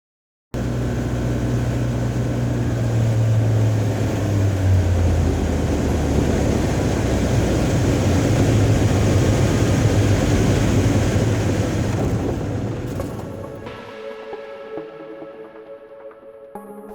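Cabin drone of a Sling 2 light aircraft in flight on approach: a loud, steady engine and propeller roar that holds for several seconds, then drops off sharply and gives way to quieter noise.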